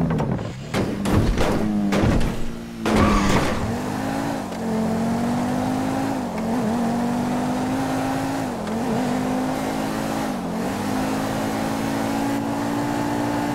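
Lamborghini supercar driven in GTA 5, its engine note rising and falling steadily and loud, with sharp thumps and impacts early on before a sustained high-revving drone.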